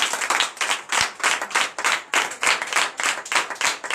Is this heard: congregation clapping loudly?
yes